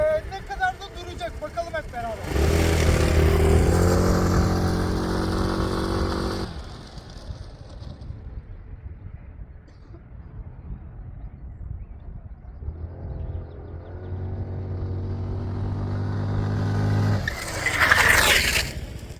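Scooter motorcycle accelerating hard to around 50–60 then braking with the rear brake, the engine revving up loudly, falling quiet, then rising again in a second pull, close to the rider.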